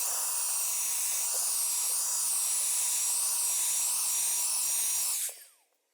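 A paint spray gun applying a coat of paint in a garage gives a loud, steady, close hiss that holds for about five seconds, then cuts off abruptly into silence.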